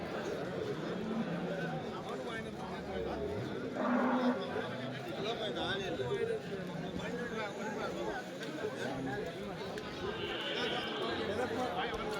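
Cattle, including dairy cows, low now and then amid a busy outdoor crowd at a cattle market in Vaniyambadi, India, with many people talking over each other and a steady murmur of activity.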